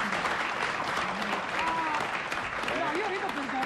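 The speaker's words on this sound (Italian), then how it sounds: "Gli applausi sono qua." Applause from a studio audience during an Italian television interview, a fairly faint, even patter of clapping with voices talking over it.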